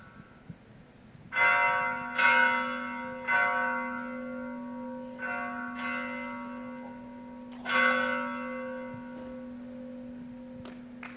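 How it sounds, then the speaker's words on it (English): A bell rung to open a meeting at a 2012 conference plenary: six spaced, ringing strikes with a long shared hum sustaining between them, each stroke clear and resonant in an otherwise quiet room. "It is our tradition to open our meeting by ringing the bell"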